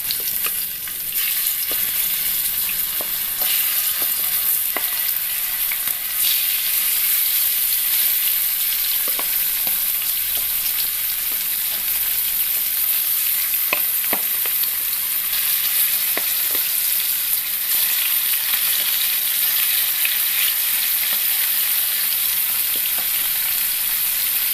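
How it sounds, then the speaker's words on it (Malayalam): Sardines fry in hot coconut oil with a strong, continuous sizzle and bubbling crackle, with scattered sharper pops and occasional stirring knocks throughout. "ചൂടായ എണ്ണയിലേക്ക് മത്തി ഇട്ട് കൊടുക്കാം."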